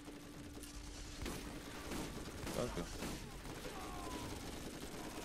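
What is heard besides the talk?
gunfire in the video game Borderlands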